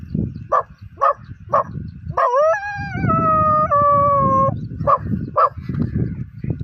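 A dog howls in a long, loud, wavering call in the Konkan countryside of Kudal, preceded and followed by short yips and barks, with no talk over it.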